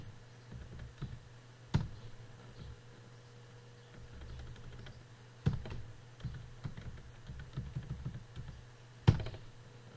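Soft computer keyboard typing in Microsoft Word, scattered quiet keystrokes with three sharper isolated key presses like Enter, over a faint steady hum.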